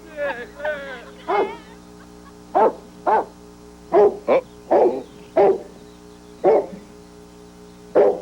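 Dog barking indoors in a comedy scene, with a series of separate, close barks spaced at irregular intervals, fairly loud against a faint steady background hum.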